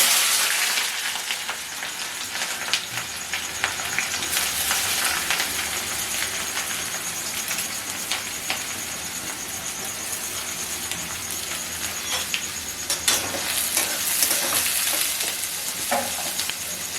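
Steady, crackling sizzle of chopped onions frying in hot oil for chicken patiala, close and continuous, with occasional scrapes and clinks of stirring.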